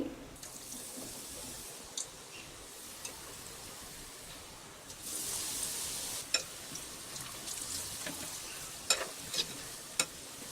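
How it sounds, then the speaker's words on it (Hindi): Besan batter-coated stuffed chillies frying in oil for Rajasthani mirchi pakora, a soft steady sizzle that swells into a louder bubbling hiss midway, dotted with a few light clicks; quiet and without speech. "अब हम इसे इस तेल में डाल देंगे।"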